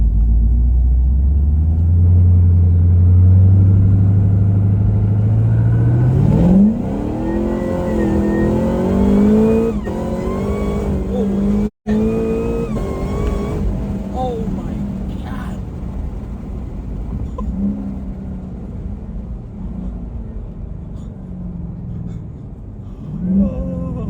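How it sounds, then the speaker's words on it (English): A 1100-wheel-horsepower third-generation Cadillac CTS-V idles low, then roars as it launches and revs hard through rising gears, loud and close, with a brief cut midway. "I gotta figure out how to launch this thing."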